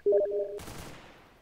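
A Counter-Strike: Global Offensive firearm in a competitive match lets off a sharp burst of gunfire that cuts in loud over a brief tonal game cue, then trails off in a fading echo.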